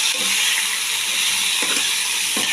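Peas fry in a pan with another vegetable for a paneer and broccoli curry, giving a steady close sizzle with a few soft stirring scrapes near the end.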